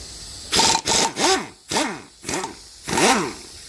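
A cordless Bluetooth impact wrench tightening a bolt on an RV leveling jack, six short rising-and-falling whirring bursts separated by brief pauses, close and loud.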